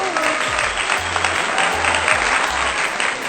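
A live audience at a seafood cooking demonstration and tasting event in Abuja, Nigeria, breaks into a steady, dense round of applause that fills the room from start to finish, with faint background tones underneath.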